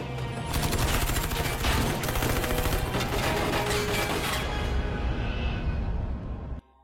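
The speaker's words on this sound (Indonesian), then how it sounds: "tiba-tiba ratusan peluru menghujani mereka" Dense, loud gunfire from a film action scene: rapid volleys and bursts of shots pour down continuously for about six seconds, then cut off abruptly into silence.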